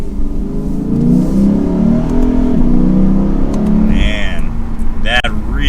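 A 2022 Lexus IS 500 accelerates up to speed, its engine note climbing steadily and loud from inside the cabin, with some talk partly over it.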